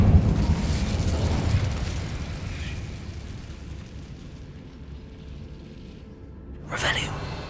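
A fiery Incendio spell from a Harry Potter wizarding video game erupts in a loud, rumbling burst that fades over several seconds, followed by a sharp crackling flare near the end.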